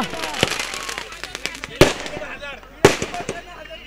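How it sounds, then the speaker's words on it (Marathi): At a village cricket tournament final, firecrackers burst in celebration, with two loud sharp bangs standing out over a stream of smaller crackles and pops while a commentator talks over the top. "फटाक्यांचा जल्लोष,"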